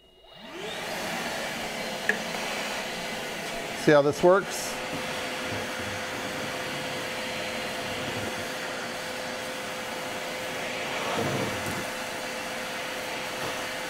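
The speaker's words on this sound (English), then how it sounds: "let's go ahead and turn the vacuum on, put it on high." A Milwaukee vacuum fitted with a debris separator runs on high, a steady loud whirring roar throughout, with a few brief knocks near the start and someone speaking once over it.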